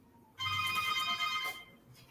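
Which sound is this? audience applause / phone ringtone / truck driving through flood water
phone ringtone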